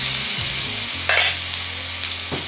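Ginger-garlic paste sautéing in a pan with whole spices such as cloves and cardamom for a Kerala chicken roast, giving a short burst of sizzling and a stir scrape, close and alone without talk.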